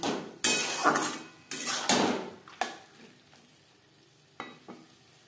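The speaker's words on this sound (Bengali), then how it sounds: "কাঁচা গন্ধ যাওয়া পর্যন্ত নাড়াচাড়া করে নেব।" Tomato paste frying and being stirred in a pan while cooking chicken chow mein, with loud bursts of scraping and sizzling in the first half, then quieter sizzle and a couple of brief clinks toward the end.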